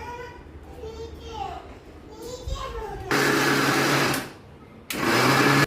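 Soaked split moong and urad dal are ground into batter in a mixer grinder, giving a loud, steady whirring that runs for a few seconds, pauses briefly and starts again. Children's voices and talk can be heard before it begins.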